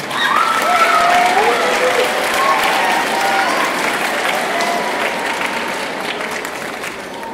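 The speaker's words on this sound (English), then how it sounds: "One last round of applause for their service to the building." Loud, sustained applause from a school audience at a middle school awards ceremony, dense clapping filling the room and holding steady for over seven seconds with light crowd noise mixed in.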